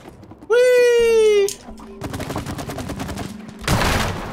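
Shooting in the co-op video game It Takes Two, with a loud sustained burst of rapid fire and whooshing effects, mixed with a player's wailing, whooping vocal and background game sounds.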